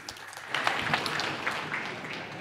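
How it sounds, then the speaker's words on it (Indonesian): Applause from an audience at a provincial parliament plenary session in Bali, a steady spread of clapping lasting a couple of seconds at moderate distance, with no talk over it. "Tepuk tangan untuk warisan ini."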